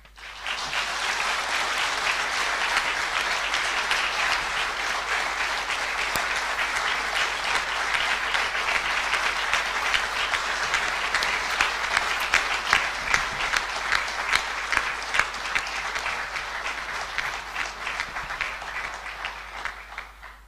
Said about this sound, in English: may I request you to welcome Rashtrapati ji with a loud round of applause